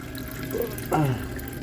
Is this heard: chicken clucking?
no